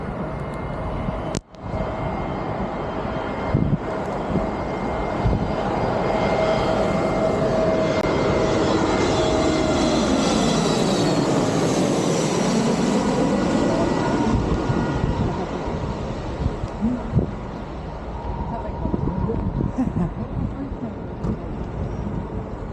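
A jet airliner comes in on a low landing approach at London Heathrow airport in the rain. Its engine roar builds steadily, peaks loudly overhead mid-pass, then slowly fades away, with faint voices at times.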